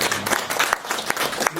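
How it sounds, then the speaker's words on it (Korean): Audience applause at a traditional hanok house concert honoring composer Isang Yun, a dense steady wash of clapping from a crowd lasting under two seconds. "박수."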